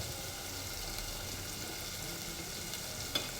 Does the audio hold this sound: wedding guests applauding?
no